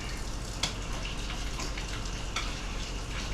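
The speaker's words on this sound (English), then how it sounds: "Put it in the pan. Just stir this up real good where everything gets hot." Chicken casserole ingredients sizzling and being stirred in a hot pan, a steady frying hiss with a few scattered clinks and scrapes, close and continuous.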